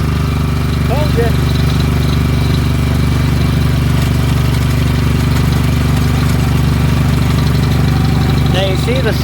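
A Snapper riding mower engine runs close and loud at a steady, even drone, with no pauses throughout.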